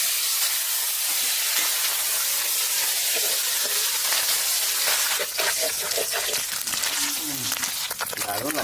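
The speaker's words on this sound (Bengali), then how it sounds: "সর্ষের তেল মাছ ভাজার জন্য, চুনো মাছ ভাজে নেব।" Small fish frying in mustard oil give a steady, loud broadband sizzle and hiss throughout, with some clatter toward the end.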